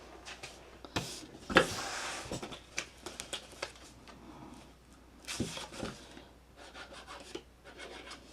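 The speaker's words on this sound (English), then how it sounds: "We're going to miter on our belly band. And fold and burnish." A folded paper belly band for a mini album is burnished, giving quiet intermittent rubbing and scraping strokes close by, with small paper handling clicks and a few sharper taps.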